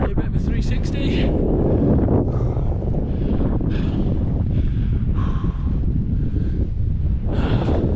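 Strong wind buffets a microphone on an exposed hilltop on the Stiperstones, making a loud, continuous low roar with gusty surges that never lets up.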